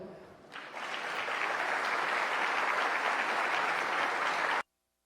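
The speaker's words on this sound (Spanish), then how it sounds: "Demos un fuerte aplauso y la bienvenida al arquitecto Óscar Eduardo Martínez Garza" An audience at an architecture conference in Chiapas breaks into steady, loud applause to welcome a speaker, building quickly after a brief quieter start and holding evenly for several seconds before cutting off abruptly.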